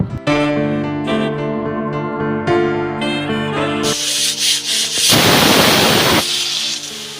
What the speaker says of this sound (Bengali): এখানে আমি আদা আর রসুন চপ করে নিচ্ছি। এটা হচ্ছে চপার মেশিন।